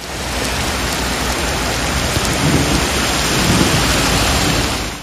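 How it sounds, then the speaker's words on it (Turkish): A sudden heavy downpour with hail in Eskişehir, Turkey, sounds as a dense, loud, continuous hiss of rain hammering surfaces, with a low rumble of thunder rolling underneath and no voices. "Şiddetli yağış ve dolu hayatı olumsuz yönde etkiledi."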